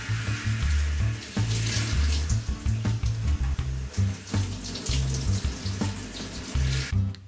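Water runs steadily from a tap while hair dye is rinsed off the scalp, a continuous splashing wash with uneven spatter that stays close and fairly loud throughout, with no talk.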